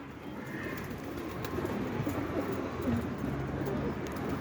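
Arap kelebek pigeons coo softly and repeatedly over a steady outdoor background hum, with a few faint clicks.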